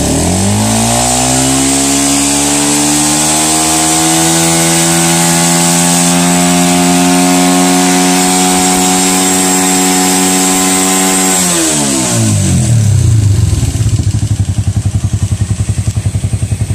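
A motorcycle engine sits at a steady idle, then revs up and holds high before dropping back to a throbbing idle, loud and close, with no voices, while the battery charging is tested.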